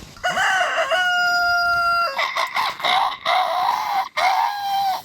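A rooster crows loudly nearby, a long drawn-out call followed by a second overlapping crow, with no talking.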